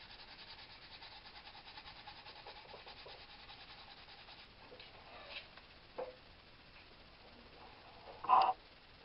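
Sandpaper rubbed against a turkey wing bone call, giving soft, quiet scratchy strokes with a few sharper, louder scrapes toward the end, and no speech.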